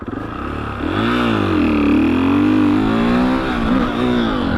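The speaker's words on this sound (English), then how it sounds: "hold in the clutch and rev the bike fully, and then release the clutch and the bike will go forward." A supermoto motorcycle engine revs hard with the clutch held in, its pitch sweeping up and down and holding high before the clutch is released, loud and close with no talking.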